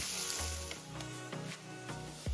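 Onion and garlic sauté in a hot pan with a bright continuous sizzle, punctuated by several soft periodic stirring scrapes and a light knock at the end.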